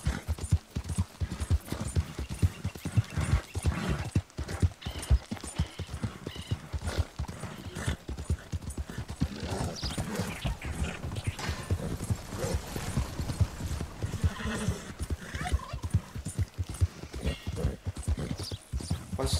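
In the video game Red Dead Redemption II, horse hooves clip-clop in a steady, continuous rhythm for the whole stretch, close and prominent, with a whinny now and then.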